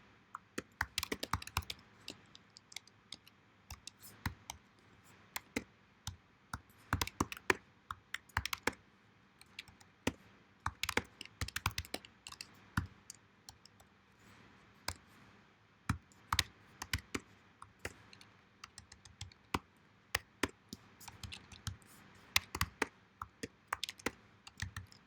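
Someone types on a computer keyboard in quick, irregular bursts of close, crisp keystrokes separated by short pauses, with no talking.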